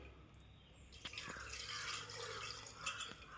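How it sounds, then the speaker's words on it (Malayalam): Water being drained off boiled cassava while making paal kappa, a faint, steady pouring and dripping splash that starts after a second of quiet and continues alone. "ഇത് വെള്ളം ഊറ്റിക്കളഞ്ഞിട്ട് വരാം"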